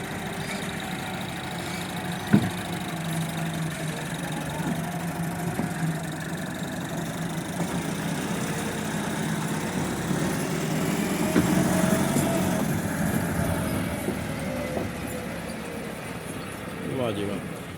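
A tractor hauling a trolley loaded with straw idles with a low, steady chug as it boards a river ferry on the Sutlej at Attari. Engine noise stays continuous throughout while people talk over it.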